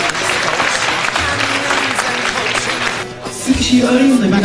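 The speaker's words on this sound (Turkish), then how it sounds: "Sahneden alkışlıyorum." Audience clapping at a HuncaLife event, a dense, lively wash of many hands, mixed with crowd noise, talking and cheers from a speaker on stage, dipping briefly before swelling again near the end.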